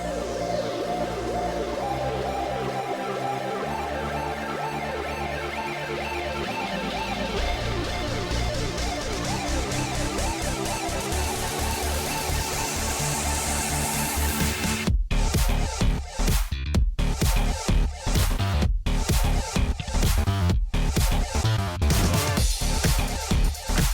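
An electronic track made with the Transit transition-effect plugin builds with layered, swirling synths, then abruptly shifts into a punchy, choppy section with rhythmic stutters and sudden dropouts, loud and continuous.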